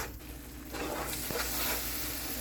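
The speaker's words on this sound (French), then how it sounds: "J'ai ma purée de tomates que voici. Je laisse cuire quelques minutes" Tomato purée cooks in a pot with a soft, steady sizzle and bubbling that rises slightly partway through, faint and close with no voices.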